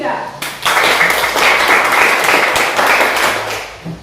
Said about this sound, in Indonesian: mari kita beri tepuk tangan untuk kelompok 3